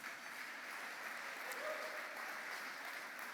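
A gala audience applauds in steady, sustained clapping that fills the room evenly from start to finish at a moderate distance, with no break in the sound.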